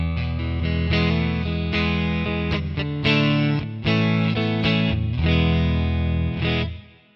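A distorted electric guitar through an OD100 amp model plays a chunky riff of chords and single notes, thick and loud, fading out at the end.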